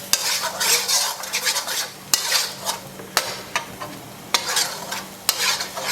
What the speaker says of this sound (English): Okay, so I've added my chili peppers, and I'm going to go ahead and stir.